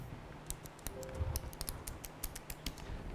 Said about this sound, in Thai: เราจะได้ยินเสียงก็แก๊กก็แก๊กก็แก๊กก็แก๊กนะครับ เพราะคีย์บอร์ดเครื่องนี้ครับ มันเป็นแบบ Optical Mechanical Keyboard นะครับ